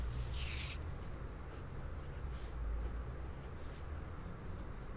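Pen or marker writing on a paper dress pattern for a bodice, a soft scratchy stroke near the start followed by quieter intermittent rubbing over faint room noise.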